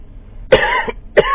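Two sharp coughs, close and fairly loud, the second following about half a second after the first ends, with a rough, raspy tail on each.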